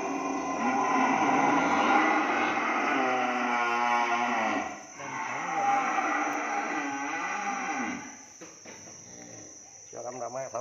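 Cattle lowing on a cattle farm in Dong Nai, with long harmonic moos running through most of the stretch, close and fairly loud, over a steady high insect or cricket drone.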